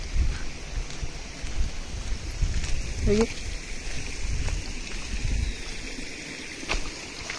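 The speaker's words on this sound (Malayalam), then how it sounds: "വെള്ളത്തിന്റെ സൗണ്ടൊക്കെ കേട്ടോ" A forest stream near Adimali flows steadily as a continuous rushing wash with some wind, while a voice briefly speaks over it around the middle.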